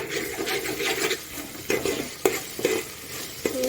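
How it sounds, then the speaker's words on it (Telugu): Ginger paste being stirred in a frying pan, a utensil scraping in repeated strokes over a steady close sizzle of hot oil, with sharp clinks from time to time. "తర్వాత అల్లం పేస్ట్ వేసుకొని బాగా తిప్పుకోవాలి."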